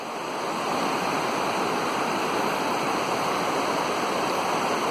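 The Ocqueoc River flows near Ocqueoc Falls in Michigan, making a loud, steady broadband rush of water that stays unbroken throughout, with no voices.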